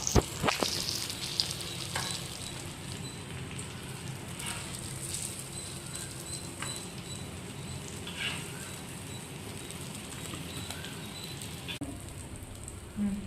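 Fish pieces fry in hot oil in a home kitchen, a steady, close crackling sizzle with occasional sharper pops and stirring scrapes, continuing evenly without talk.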